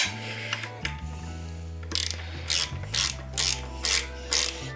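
Torque wrench clicks on the handlebar stem bolts of a Winspace Agile carbon aero road bike: a short ratcheting run, then a series of evenly spaced sharp clicks, close and fairly quiet with no talk.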